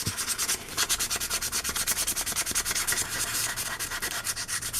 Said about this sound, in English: So all you do, just sand it.